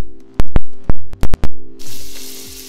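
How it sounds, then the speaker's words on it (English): Chopped onion, garlic and ginger hit hot oil in a pot for a Jamaican curry rundown fish, giving a loud, steady hiss that builds after several sharp clatters and knocks at the start. "Now we're gonna add our onion, garlic,"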